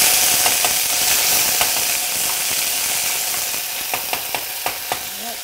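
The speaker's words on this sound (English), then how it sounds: "It splatters badly when you add ginger and garlic." Ginger and garlic fry in hot oil for Indian cooking with a loud, continuous sizzle and spatter, joined by a series of sharp taps and scrapes from stirring near the end.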